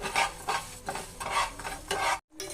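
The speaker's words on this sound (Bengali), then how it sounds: "ধনিয়া মৌরি এগুলি রোস্ট করে নিই সঙ্গে দিয়ে দিব কয়েকটা শুকনা লঙ্কা" Whole coriander seeds, fennel seeds and a few dried red chillies dry-roast in a pan, giving a close, steady scraping rustle as the spices are stirred in bursts, with a short pause before stirring resumes.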